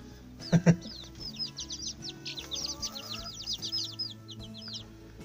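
Spanish chicks and chickens cluck in short bursts, with a couple of louder close calls early on and a busy stream of chirps and clucks continuing throughout.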